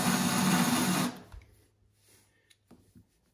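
A power drill runs loudly for about a second while installing a toilet closet flange in a bathroom, then cuts off, leaving a few faint knocks and taps in a quiet room.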